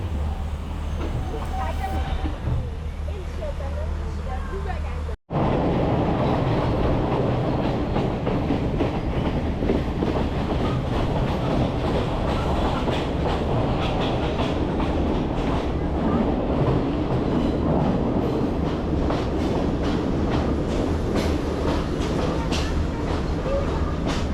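A train on the Kandy to Badulla line in Sri Lanka rumbles steadily along the rails with a continuous clattering roll, loud and close, with a brief dropout early on before it carries on.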